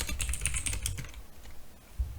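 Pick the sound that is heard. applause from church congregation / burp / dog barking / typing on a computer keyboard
typing on a computer keyboard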